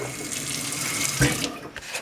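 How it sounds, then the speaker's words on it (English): Very hot water pours from a tap into a jar of wheatberries, a close, steady splashing gush that briefly changes tone and then tapers off near the end. "I'm going to take this very, very hot water, and I'm going to fill up my jar"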